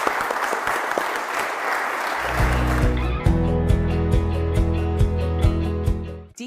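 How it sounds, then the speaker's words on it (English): Audience applause at a Delaware candidate forum: steady clapping from a seated crowd that swells and continues while a music jingle with sustained tones comes in over it and fades at the end. "please join me in a round of applause for Mr. Ramon."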